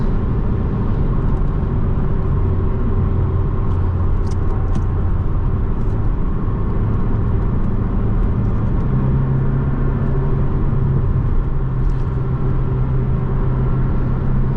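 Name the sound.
Porsche 718 Boxster engine while driving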